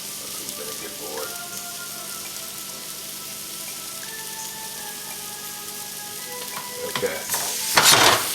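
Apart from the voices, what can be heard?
grouper frying in a pan for fried ceviche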